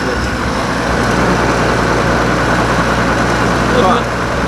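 A diesel tractor engine runs steadily, burning about 15-18 litres of fuel an hour, giving a close, continuous low drone with an even throb that holds constant throughout.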